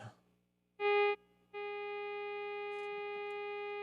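A steady sine-wave test tone from a signal generator on a Grammatico GSG100 amp test bench; a short burst comes first, then a continuous, even buzzy tone holds, with faint clicks and no talking.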